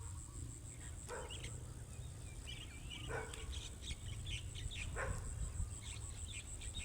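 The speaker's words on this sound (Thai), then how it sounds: "น้องหมาจะเห่าทำไมเนี่ย มันเห็นปูแล้วมันก็เห่า" A dog barks at a crab beside a duckweed-covered fish pond in the morning: three short, fairly distant barks spaced a couple of seconds apart over steady cricket chirping and scattered bird calls.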